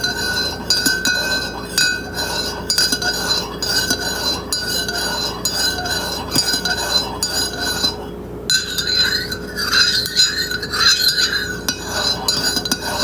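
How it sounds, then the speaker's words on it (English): A spoon stirs creamer into coffee in a cup, with repeated close clinks and scraping against the sides in an uneven rhythm, a short pause partway through, and no talking. "Kind of stirring up the creamer on the outside edges too at the top."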